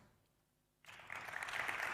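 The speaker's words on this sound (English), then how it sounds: "Let's give her a nice big round of applause." Applause from a conference audience swells up suddenly after a quiet pause and keeps building into a steady, fairly distant wash of clapping.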